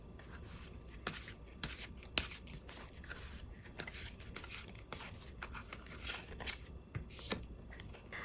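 Tarot cards shuffled and drawn by hand, a soft continuous riffling and rubbing with a few sharper card snaps standing out, close and quiet with no voices.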